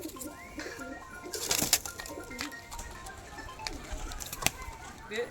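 Pigeons coo softly in a loft of black and green bearded breeding birds, low throaty calls recurring through steady background chatter, with a few sharp clicks and wing flutters close by.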